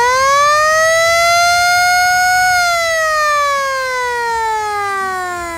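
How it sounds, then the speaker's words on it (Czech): Fire brigade siren at a cabbage soup festival in Velké Bílovice, a loud, steady wailing tone that climbs slightly then slowly falls over several seconds, heard alone without any talk. "No, klasika, siréna a modrý maják."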